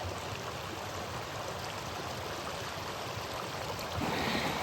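A steady broadband rush of water from the creek at the top of Cooper Canyon Falls on a Los Angeles hike, constant and fairly distant, swelling slightly near the end.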